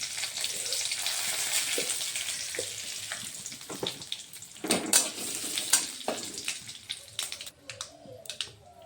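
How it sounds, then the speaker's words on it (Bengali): Dry chillies and curry leaves sizzle in hot tempering oil for a homemade dosa chutney. A soft continuous hiss runs under scattered clinks and scrapes of a utensil against the pan, with no speech. "শুকনো লঙ্কা দিয়ে দিচ্ছি ফোড়নে, কারি পাতা দিয়ে দিচ্ছি"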